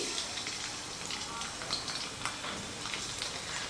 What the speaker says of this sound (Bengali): রসুনটাকে একটু ভেজে নেব হালকা করে